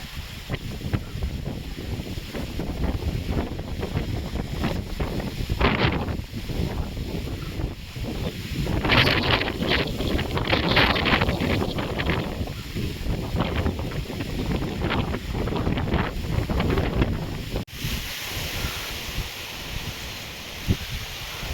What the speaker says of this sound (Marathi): एवढा जोराचा वारा सुटला आहे.